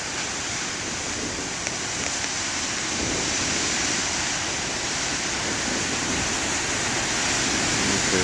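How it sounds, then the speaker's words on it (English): Huge ocean waves surge and break in a continuous loud roar of surf, a dense wash of noise that fills the whole stretch without pause or voices. "there's a lull in the big waves"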